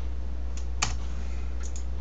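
Computer keyboard keys are pressed during a 3D modeling session, a few light, quick clicks with one sharper tap, over a steady low hum.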